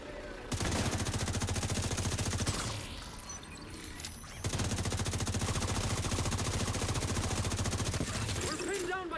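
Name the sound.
turret gunfire in The Division 2 video game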